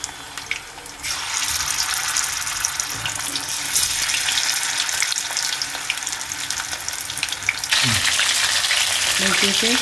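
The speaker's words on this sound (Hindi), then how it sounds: "अब हम चिकन को इसमें फ्राई करते हैं" Chicken pieces sizzle and crackle loudly in hot oil over a medium gas flame for chilli chicken, a steady dense hiss that briefly dips before surging again as more pieces go in.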